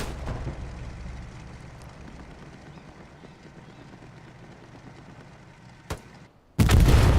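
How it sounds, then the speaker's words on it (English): Rockets fire in the Hell Let Loose video game during a competitive night match at Driel: a rumbling blast at the start fades into a long low battlefield drone, then a sharp crack and a loud sudden explosion close by. "Couple rockets for funsies from Blower and Solar."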